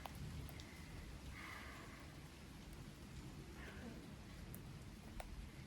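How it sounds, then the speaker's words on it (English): Heavy rain falls steadily outdoors, giving a dense, even hiss with scattered drop taps throughout, and a voice is faintly audible underneath. "it's really raining"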